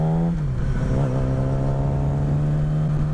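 A bus passing on the road, heard close and loud as a steady engine drone with shifting pitch, filling the whole stretch without voices.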